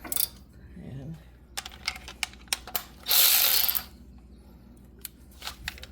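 Electric ratchet wrench working a leveling kit bolt on a Jeep Gladiator, giving a brief loud whirring burst amid scattered metallic clicks and clanks nearby, with soft talk at the start.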